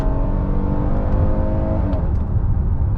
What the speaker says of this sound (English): They are quick to downshift here, so let's go ahead and do that.